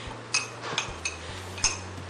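Spoon stirring lemon juice and sugar for an alcohol-free mojito in a glass, a handful of irregular light clinks against the glass over a soft steady background, no talking.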